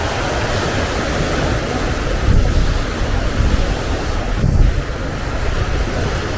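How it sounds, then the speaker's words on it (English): Ocean waves crash and surge in a steady roar of surf on an Australian coast in bad weather, with a couple of louder breaking swells and wind gusting across the microphone. "Look at those waves."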